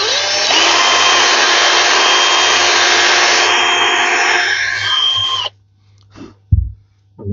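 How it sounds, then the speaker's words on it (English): A power drill boring holes into a butane culinary torch, a loud close whine running steadily for about five seconds before stopping, followed by a few handling knocks. "Okay, now you're gonna drill."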